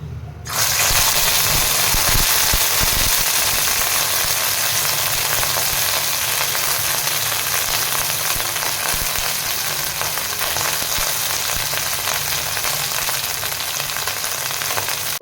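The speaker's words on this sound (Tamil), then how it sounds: "இது ஆட் பண்ண உடனே கொஞ்சம் நல்ல எண்ணெய் வந்து தெரிக்கும்" Sesame oil sputters and sizzles in a pan right after aloe vera gel is added, a loud, steady crackling fry that starts abruptly and carries on without a break.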